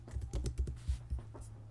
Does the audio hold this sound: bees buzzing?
no